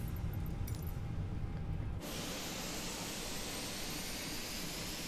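Aircraft jet engine number one starting up, a steady low rumble that gives way after a couple of seconds to a loud broadband rushing roar that holds constant.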